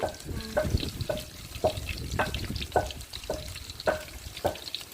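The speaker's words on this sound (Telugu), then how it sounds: "ఓ పక్క ఉల్లిపాయలు అయితే ఏగుతా ఉన్నాయి కదా" Onions fry in oil with a soft continuous sizzle, punctuated by regular scraping strokes of a spoon stirring the pan, close up and without talk.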